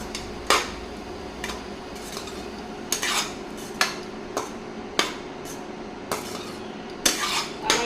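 A spoon clinks against a metal pan again and again at an uneven pace while chilli powder and curry leaves are stirred into a vegetable salna. There is only a faint cooking hiss underneath.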